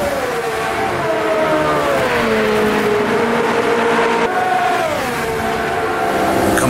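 A vintage racing car in the AMS2 racing sim screams close by, its engine note sweeping up and down through gear changes and throttle lifts while balancing through a fast corner.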